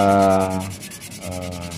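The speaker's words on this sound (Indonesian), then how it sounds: "kita bersihkan dan kita amplas lagi" Sandpaper rubs back and forth over a carved wooden jump-frog fishing lure, close and loud, in two scraping strokes with a brief pause between them.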